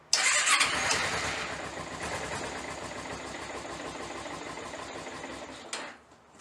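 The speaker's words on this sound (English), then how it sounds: "We still have to jump pack start this bike, so let's go ahead and get it started, get it warmed up" A Kawasaki Ninja 250R motorcycle engine, jump-started with a battery pack, cranks and catches, then runs in a steady close buzzing idle before cutting off near the end; no voices.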